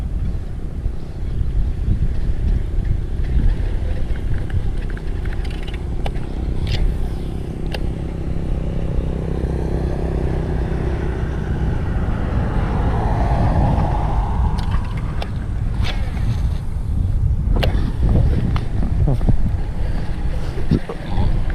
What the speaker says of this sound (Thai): มีส่วนลมแรงมาก